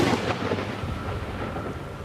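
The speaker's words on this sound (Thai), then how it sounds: "ฝนหาใหญ่กำลังมา" Thunder rumbles deep and loud over a hiss of heavy rain approaching in South African mountains, in a brief, continuous burst.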